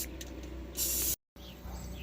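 Aerosol spray paint hisses in a short steady burst onto bare metal and fresh welds in a car's trunk and hatch area, nearby and alone, followed by a brief silence and quiet shop ambience.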